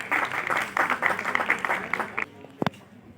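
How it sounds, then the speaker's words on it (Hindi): An audience at a school National Sports Day event claps to welcome teachers onto the stage, a moderate burst of applause that fades out after about two seconds, followed by near silence and a brief sharp sound. "तालियों से इनका स्वागत करें।"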